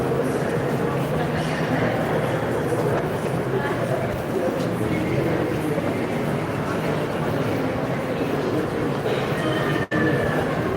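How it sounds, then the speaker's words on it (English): Rumbling of an indoor train runs steadily for several seconds, a continuous rolling rail noise with a faint clatter, while people talk over it. "They have an indoor train where you can go in."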